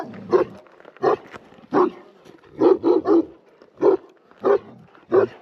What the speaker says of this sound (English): These dogs fight with the bears.